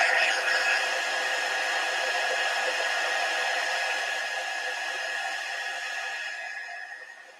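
A hair dryer runs over a small painted piece, its steady high whirring blow held close and loud for about seven seconds, then tapering off at the end.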